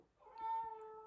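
A house cat meows once, a clear drawn-out cry close to the mic, rising and falling over about a second in an otherwise quiet indoor room.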